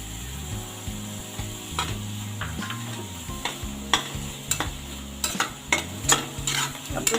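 Tomatoes for pav bhaji cooking in a pan while being stirred, with a soft sizzle beneath repeated scraping and knocking strokes of a spoon that grow sharper and more frequent toward the end, close and moderately loud, no talking.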